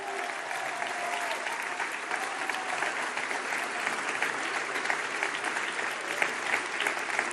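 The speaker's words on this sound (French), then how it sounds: "Merci à toutes et tous ce soir, une fois encore, de les applaudir." Sustained applause from a large audience at a French presidential election night speech, dense steady clapping that fills the whole stretch without letting up.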